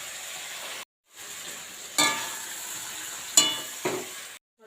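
Meat frying in a pan gives a steady sizzling hiss, broken by a couple of short gaps and a few sharp clinks and scrapes of a utensil against the pan, with no voices.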